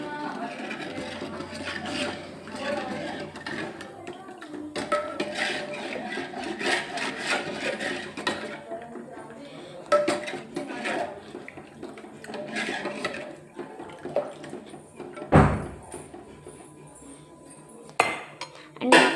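A spoon stirs dal in a metal pot, with repeated scraping, rubbing and light clinks at a steady pace up close, followed by a sharp knock and scattered clatter near the end, while a voice speaks faintly at times.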